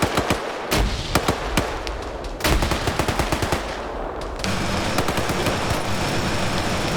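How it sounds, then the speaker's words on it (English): Bursts of automatic and single-shot gunfire from shooters firing out of windows in an Arma-style military game set in Fallujah during the Gulf War, sharp cracks in rapid irregular volleys, loud and close, with no talking. "Shooters firing out the windows here."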